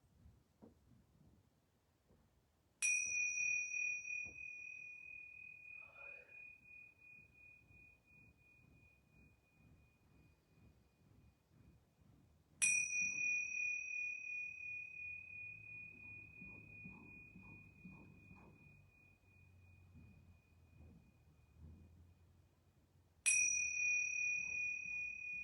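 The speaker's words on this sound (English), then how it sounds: "I'm going to ring these yoga bells 3 times." Small yoga bells ring three separate times, each a bright, sustained metallic tone that rings out and slowly fades over several seconds, with quiet room sound between strikes.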